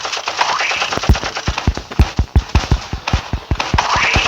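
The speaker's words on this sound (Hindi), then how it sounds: "अब हमें हमारी गन से इसको मारना है।" Rapid video game gunfire crackles in a burst of sharp, close shots fired in quick succession while a player shoots an enemy.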